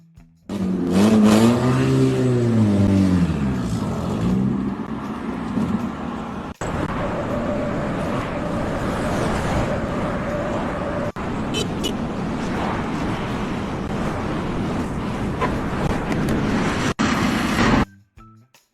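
Car engine revving and accelerating loudly as it is driven up onto a transport truck, with wavering pitch sweeps early on, then a steady rumbling drone broken by brief sharp knocks and a cutoff near the end.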